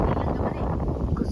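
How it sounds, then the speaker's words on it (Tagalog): Strong wind gusts steadily across a microphone at an outdoor hilltop viewpoint, a loud continuous rumbling roar with no pauses. "Kusog kayo ang hangin gyud."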